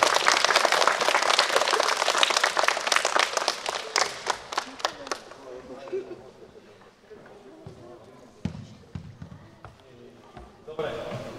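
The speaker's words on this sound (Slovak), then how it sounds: "Dobre, čiže poprosím potlesk" Dense applause from the audience at a school football tournament, loud and sustained for about five seconds, then thinning into scattered claps and crowd murmur.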